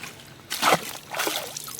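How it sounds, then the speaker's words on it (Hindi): River water on the Narmada splashing close by in two short sloshing bursts, a heavier surge followed by a lighter splash, over a faint background hiss. "ये पानी की आवाज़ सुने"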